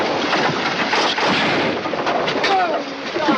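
Gunfire and loud booming shots fill a scene from a James Stewart western, dense and continuous with echoing blasts, over a background of voices and commotion.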